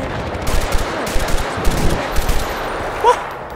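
M249 machine gun firing in Battlefield: Bad Company 2: short bursts of rapid shots at moderate distance, with irregular pops over a busy battlefield background.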